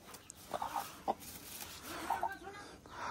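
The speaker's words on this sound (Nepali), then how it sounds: "कुखुराहरु क्वाक गरिरहेछ" Chickens cluck quietly in short scattered bursts, a few soft clucks spaced out over a faint background hiss.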